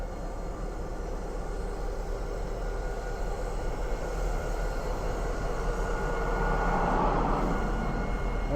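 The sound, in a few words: Union Pacific train running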